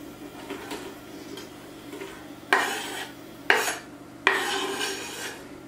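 Chopped onion is added to a pot for squash soup, with soft scraping followed by three louder clatters of the onion and utensil hitting the pot.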